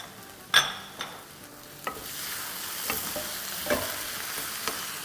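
Chicken mince being stirred and broken up in a hot pan, with a soft continuous sizzle under a handful of sharp spatula scrapes and knocks spread across the moment, fairly close and moderately loud, no voices.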